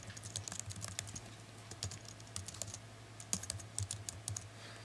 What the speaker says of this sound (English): You want to click that and type in your email address.